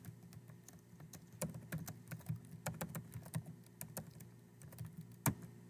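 Keys clatter steadily on a computer keyboard as a text command is typed in, a quick irregular run of soft clicks with a few sharper strokes, close up and with no one speaking.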